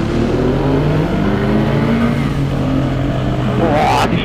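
A Husqvarna 701 Supermoto single-cylinder motorcycle under hard acceleration, its loud engine roaring steadily up through the revs, with wind rush close to the rider and a brief burst near the end.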